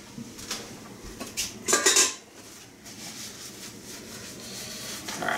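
A metal colander clatters against pots and pans as it is grabbed in a home kitchen, with a short burst of clanking kitchenware in the middle, then quiet rustling.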